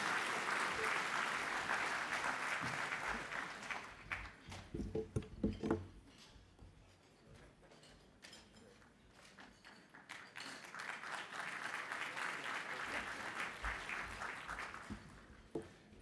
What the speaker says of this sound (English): Thank you for that cacophonous applause